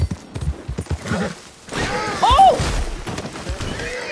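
A stolen horse gallops in Red Dead Redemption 2, its hooves clip-clopping in quick rhythm close by, with a brief whinny, while a man exclaims over the action.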